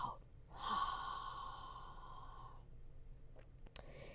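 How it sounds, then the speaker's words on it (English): A slow, deep breath during a gentle yoga session, heard as a long, steady airy rush that holds for about two seconds and then fades, followed by a few faint soft sounds. "Deep breath in, deep breath out."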